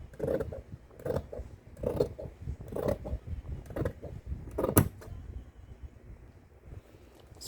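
Scissors cut fabric collar pieces for a notched shirt collar in a run of about six evenly spaced, close snipping strokes, roughly one per second, with a soft rustle between them and no talking.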